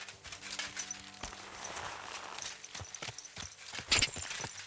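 Horse hooves clip-clop in Kingdom Come: Deliverance 2, a steady trotting rhythm of sharp strikes on a dirt path with brief whinny-like bits, moderately close and without speech.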